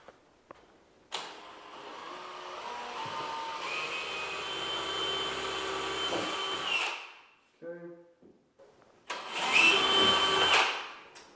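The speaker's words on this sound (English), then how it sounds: "Take my drill, same thing, line this up." A power drill whirs steadily for several seconds while installing cabinet pulls, pauses briefly with a few clicks, then revs up again in a second loud burst.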